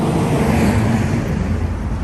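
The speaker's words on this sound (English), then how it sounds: "Sorry if all the trucks are very, very noisy" Heavy trucks rolling along a road beside a large military air base, a steady loud broadband rumble with no clear gaps, sounding close and continuous throughout.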